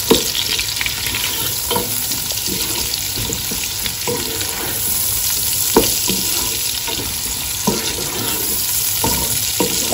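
Two medium-sized roughly chopped onions frying in oil in a pan, a constant loud sizzle with scraping stirs every second or two, close up and with no talking.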